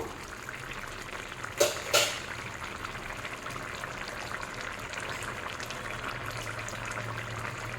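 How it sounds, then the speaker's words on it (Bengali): Drumstick and potato pieces are stirred in a pot of simmering curry, making two quick, sharp clinks and scrapes close by, followed by a soft, steady bubbling. "হালকা হাতে সবজিগুলো একটু নাড়িয়ে দেব।"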